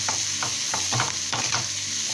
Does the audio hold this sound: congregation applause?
no